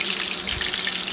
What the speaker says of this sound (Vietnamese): Mình chiên cái này sau khi mình bỏ vào cái chảo dầu